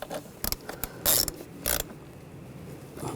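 Valve cover bolts on a 2006-2010 BMW 550i 4.8L V8 being tightened with a ratchet, quick bursts of clicking pawl strokes, a few short taps then two longer ratcheting runs, close and quiet, no talking.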